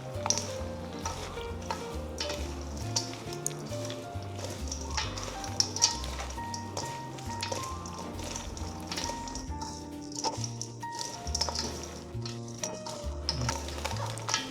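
Crispy pork sisig being stirred with calamansi in a hot pan, a close, continuous sizzle broken by scraping strokes and light taps of a utensil against the pan.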